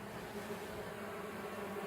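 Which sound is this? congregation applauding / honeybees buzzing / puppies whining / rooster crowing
honeybees buzzing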